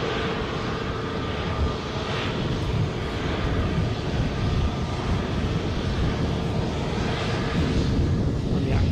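An easyJet airliner passes at Edinburgh airport with a continuous loud, dense engine roar that fills the whole stretch evenly.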